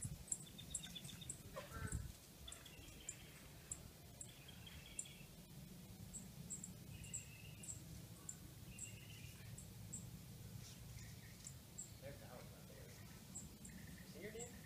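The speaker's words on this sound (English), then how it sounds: "She hears the bird." Birds chirp and call repeatedly outdoors in short high tweets over a low background rumble, with people talking quietly beneath.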